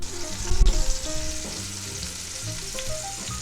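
Beef sears in an Instant Pot on its sauté setting, a steady close sizzle and crackle with a brief louder clatter near the start, likely the meat being moved.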